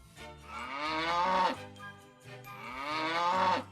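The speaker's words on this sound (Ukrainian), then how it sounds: "давайте ми з вами послухаємо та скажемо, як кричить наша корова" Two long, loud cow moos in succession, each rising and then fading, with a short pause between them.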